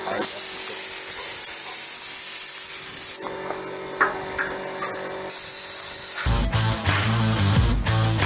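A pressure sprayer hisses steadily while washing paint off a surface, the spray cutting out and restarting several times, with rougher scrubbing and splashing noises near the end.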